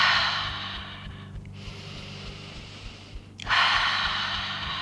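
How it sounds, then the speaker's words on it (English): A person in a yoga practice breathes in through the nose and out through the mouth, two close, airy breaths with a quiet pause between them and a faint low background hum. "So inhale through your nose and exhale through your mouth."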